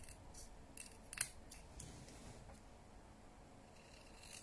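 Scissors snip through card paper close to the edge while a handmade folded greeting card is being trimmed, giving faint, sparse clicks and one sharper cut in a quiet room with no talking.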